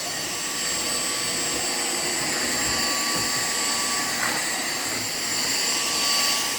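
Dyson V6 cordless vacuum cleaner running steadily on max power over a floor, a loud continuous whine with a high tonal hum and no talk.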